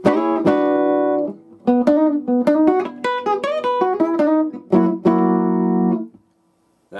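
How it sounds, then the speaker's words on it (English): Single-note blues guitar turnaround lick, played going from the five chord: clean plucked notes in a quick melodic run with ringing sustained tones, a pause, then a held final chord fading out alone. "So the whole lick sounds like this with the turnaround or the going from the 5."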